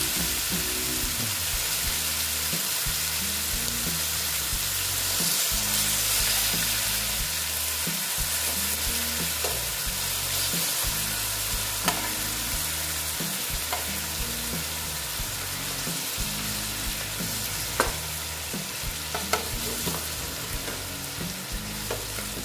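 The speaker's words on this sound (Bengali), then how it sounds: "আর একটু ভেজে নিচ্ছি মশলা সহ" Koi fish frying with spices in a pan, a steady close sizzle with bursts of stirring and scraping that come and go in a rough rhythm throughout, with no voices.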